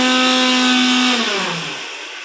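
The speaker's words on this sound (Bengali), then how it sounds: "ঝুমা ওখানে মিক্সি চালিয়ে দিয়েছে।" An electric mixer grinder (mixie) runs in a home kitchen, a loud steady motor whine with a strong hum that drops in pitch and winds down toward the end.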